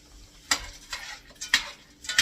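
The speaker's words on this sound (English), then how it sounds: "So essentially all we're doing here is heating the peas and the carrots up." Peas and carrots heating in a pan for chicken pot pie, with a few sharp stirring scrapes and clinks every half second or so over a faint low sizzle, close and alone.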